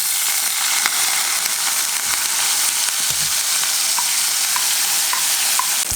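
Parboiled rice, rinsed and drained, roasting in a pan with steady sizzling and stirring scrapes, a few faint crackles and pops rising out of the continuous hiss.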